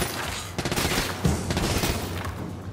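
Sustained automatic gunfire at multiple targets in Gears of War 5, a dense rattling stream of shots with heavier thumps mixed in, loud and continuous throughout.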